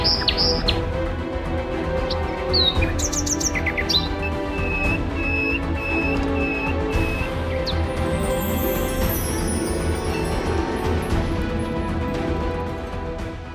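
A flock of birds chirps and tweets continuously for over ten seconds, dense overlapping calls close by with a steady busy texture and no speech.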